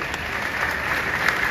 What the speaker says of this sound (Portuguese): Uma salva de palmas para Franklin aí